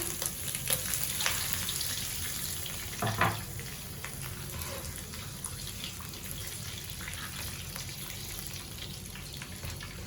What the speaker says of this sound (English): I'll add in 1 cup of water.